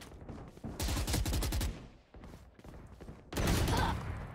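Phantom rifle gunfire in the video game Valorant: two loud, rapid bursts of automatic fire, one lasting under a second and a later one running to the end, separated by a quieter stretch.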